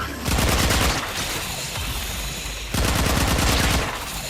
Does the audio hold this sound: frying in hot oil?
no